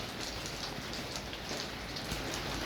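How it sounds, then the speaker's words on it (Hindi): Heavy rain pours down at a kitchen construction site where work carries on. It makes a dense, continuous hiss and patter at an even loudness, with no voices. "इस टाइम जो है फुल बारिश हो रही है, ज़ोरों शोरों से बारिश हो रही है"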